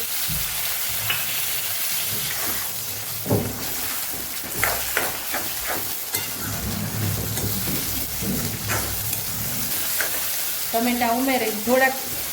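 Tomatoes and onions sauté in a pan with a constant sizzle. Scattered clicks and stirring scrapes break through the hiss, and a short voice rises near the end.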